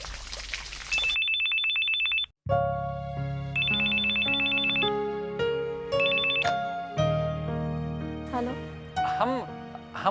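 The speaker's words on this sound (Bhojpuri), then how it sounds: "यशोदा तोहार फोन।" A telephone rings with repeated electronic trills while music and a voice play beneath it, the ring bursts recurring in short clusters at close range.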